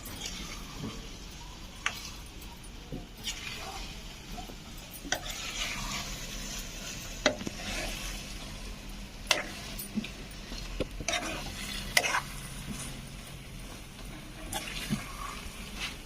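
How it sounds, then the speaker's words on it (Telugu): Stuffed brinjal curry (gutti vankaya) being stirred and mixed in a pan, with soft scraping strokes and faint sizzling at steady moderate level, occasional sharp utensil taps against the pan, close by. "ఇప్పుడు దీన్ని బాగా మిక్స్ చేద్దాం"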